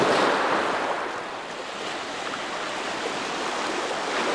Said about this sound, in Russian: Вон какая там красивая волна.